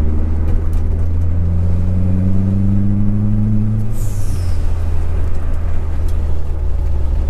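A Fiat Coupe 2.0 16v Turbo drives along, its engine droning loud and close with a steady low hum, a pitch sweep partway through and a brief high hiss.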